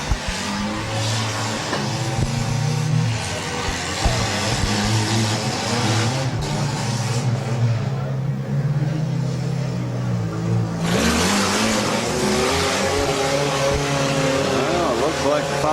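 Race car engines rev loudly and continuously at a Clinton County derby, a steady roar with rising and falling pitch through the whole stretch, with a commentator talking over it.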